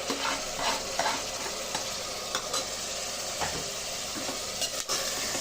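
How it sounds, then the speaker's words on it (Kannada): Tomatoes frying in hot oil in a pan as part of a fenugreek rice dish, with a steady close sizzle and crackle plus occasional stirring scrapes throughout. "ಟೊಮೊಟೊ ಸಾಫ್ಟ್ ಆಗೋಗ್ಬೇಕು, ಅಲ್ಲಿ ತನಕ ಸ್ವಲ್ಪ ಫ್ರೈ ಮಾಡ್ಕೊಳ್ಳೋಣ"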